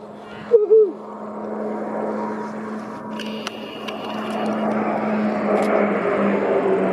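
RNZAF Beechcraft T-6 Texan II trainers of the Black Falcons fly a formation display at the Omaka airshow: a steady, distant propeller drone builds gradually, and a brief chirp sounds early on.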